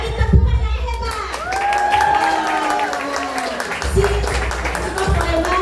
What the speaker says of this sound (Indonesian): Bagi tepukan yang hebat.